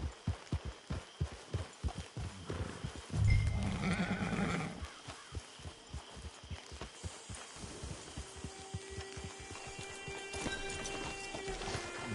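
Horse hooves clip-clop at a steady trot in Red Dead Redemption 2, a regular rhythm of sharp, close hoofbeats throughout, briefly overlaid by a louder rushing swell and a neigh-like sound, with no talking.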